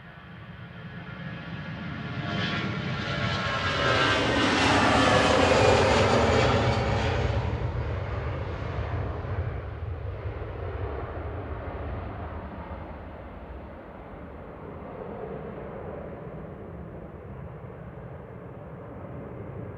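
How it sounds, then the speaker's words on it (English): An EasyJet airliner departs Manchester Airport bound for Faro, its jet roar swelling to a loud peak midway as it climbs away, then fading into a steady distant rumble with no talk. "let's enjoy this EasyJet departing now"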